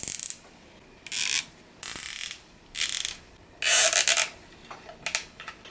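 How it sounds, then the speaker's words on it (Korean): Bolts being tightened back onto the battery mount of a Samchully Phantom electric bicycle, five or six short bursts of ratcheting, whirring turns separated by pauses, close and fairly loud with no talk. "볼트 풀었던 거 4개를 다시 조이면 작업은 끝나네요"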